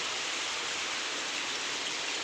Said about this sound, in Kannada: ತುಂಬ ಮಳೆ ಬರ್ತಾ ಇದೆ